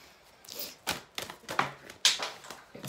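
Tarot cards being drawn and dropping onto a surface, giving a handful of sharp, papery taps and flicks, close and separate, with brief quiet gaps between them.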